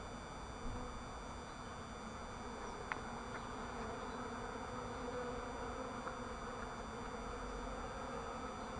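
Honeybees from a swarm being installed in a new hive hum steadily and close by, a dense continuous buzz with a few faint clicks and no talking.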